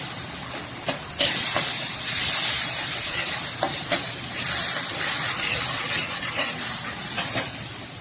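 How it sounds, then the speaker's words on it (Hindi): Chicken stock is poured into a hot pan of frying macaroni mixture and sizzles hard, a steady, close hiss and bubble broken by occasional sharper ticks and a louder surge near the start. "जी मैंने अब इसमें डालना है चिकन स्टॉक, जिसमें मैंने चिकन बॉयल करी थी, ये डाल देना है मैंने"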